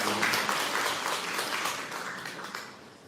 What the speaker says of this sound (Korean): 서로에게 축복의 박수로